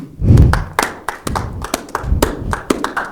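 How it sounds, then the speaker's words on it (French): A small group of young women contestants on a French quiz show clap for themselves, sharp distinct handclaps in an uneven rhythm, close and loud, with a few heavier thumps and no talking. "Mesdemoiselles, vous allez vous applaudir"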